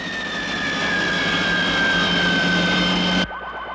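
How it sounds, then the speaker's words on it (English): A plane's aircraft engine in a 1969 action adventure film roars as a loud, steady, sustained drone with a high whine over it, then cuts off suddenly near the end. "they'll never build a plane like that."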